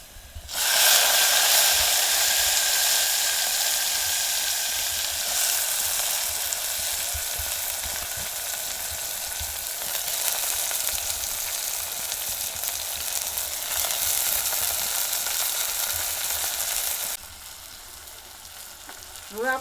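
Moth beans tossed into hot oil with browned garlic and asafoetida hiss in a loud, continuous close sizzle that eases slightly near the end, with no talking.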